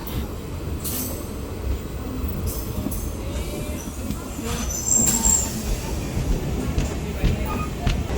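A DEMU passenger train rolls into Gollapalli station with a constant rumble of wheels on track and occasional high squeals and clanks, while voices murmur in the background.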